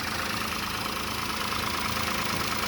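A 2024 Toyota Wigo 1.0 liter three-cylinder engine idles at a cold start with a close, even thrum and a faint rhythmic pulsing, steady and without talk for just under three seconds.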